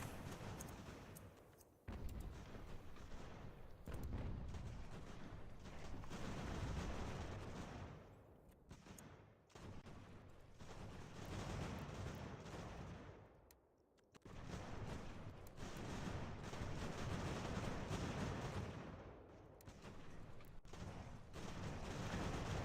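Artillery and musket fire in Ultimate General: American Revolution, heavy rumbling volleys and booms rolling in repeated waves with brief lulls, faint and distant in tone.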